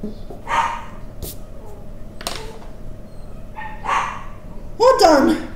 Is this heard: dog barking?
yes